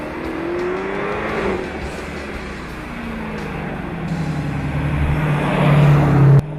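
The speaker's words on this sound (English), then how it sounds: "The exhaust was surprisingly quiet in town unless you put your foot down to wake the cat up." A supercharged Dodge Challenger SRT Hellcat accelerating, its engine note climbing steadily over several seconds from a moderate drone to a louder, higher-pitched rev before cutting off abruptly, with road and tire noise underneath.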